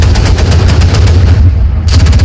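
Tank cannon and gunfire in the War Thunder video game, loud and dense, with rapid overlapping bursts and booms that run continuously with no talking.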